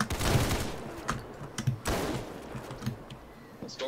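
Gunfire in the Roblox first-person shooter Untitled Shooter 2 during a gun test, several sharp shots in irregular bursts over background game noise, fairly loud, with no talking.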